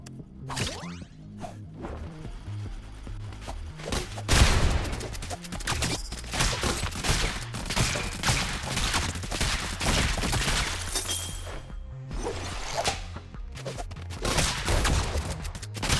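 Gunfire in the video game Rounds comes in rapid bursts of shots, whooshing projectiles and sharp impacts. The volleys are dense and come in overlapping waves with brief gaps, with no talk over them.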